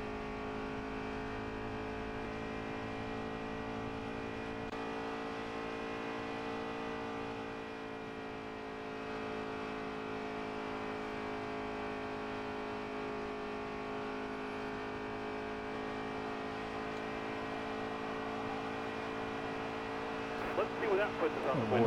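Race car engine in the NASCAR Heat 3 video game holding a steady, loud high-RPM drone with dense harmonics for the whole stretch, a brief surge near the end.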